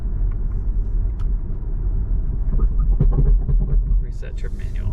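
Steady loud road rumble and tire noise fills the cabin of a Volvo XC40 Recharge electric SUV while it tows, a continuous low drone with a few brief higher clatters near the end.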